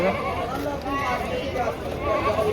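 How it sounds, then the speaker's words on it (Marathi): Goats bleat repeatedly amid the busy Deonar goat market, their wavering cries mixed with crowd chatter and people talking nearby. "किती मोठे मोठे बकरे आहेत"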